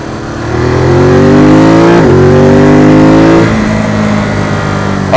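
A motorcycle engine revs up loudly with rising pitch, drops briefly as it shifts gear, then climbs again and settles into a steady drone.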